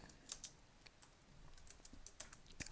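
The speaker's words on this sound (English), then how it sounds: "Let's type in this" Quiet, close typing on a computer keyboard as text is entered into a spreadsheet formula, with irregular light key clicks spread across a few seconds and no speech.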